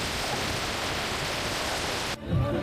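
Heavy rain pours down during a motorbike ride, a loud, steady broadband hiss that cuts off abruptly near the end, leaving a brief quieter rumble.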